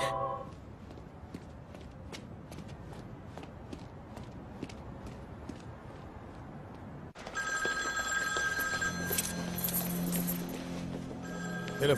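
A telephone rings in a rapid, repeating electronic pattern, faint at first over a background of footstep-like clatter, then fuller and brighter toward the end, with no one speaking.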